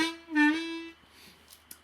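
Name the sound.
harmonica dip played on 2 draw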